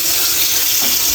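Water gushes loudly from an opened tap, a dense steady rush close by that runs without pause and with no voices.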